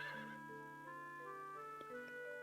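Horse in the Harvest Moon: One World video game whinnying: a short, bright, wavering neigh opening at moderate loudness, then trailing into soft, sustained tonal game music with a faint tick or two.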